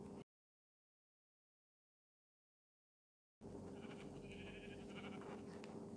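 A sheep in the mobile version of Minecraft bleats after a short silence, a brief nasal call over a steady game background.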